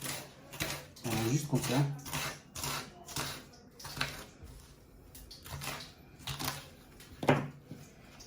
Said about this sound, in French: On va grossièrement couper notre oignon.